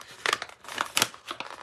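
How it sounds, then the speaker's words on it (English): A wrapped treat bag packet is torn open, giving a quick run of sharp crinkling rips and rustles, fairly close and moderately quiet, with no talk over it. "you've got to unwrap these things. Oh, and I've ripped the packet."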